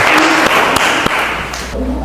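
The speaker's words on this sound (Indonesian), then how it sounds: "Oke, tepuk tangan untuk kelompok 1." Classroom applause for a student presentation group, a dense patter of clapping across the whole stretch with a few sharper thumps, fading slightly toward the end.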